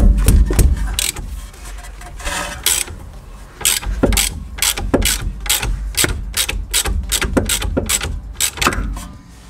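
A ratchet wrench loosening an 18mm bolt on a Tesla Model 3 suspension arm, giving loud, close, rapid metallic clicking in bursts with brief pauses, ringing in a garage.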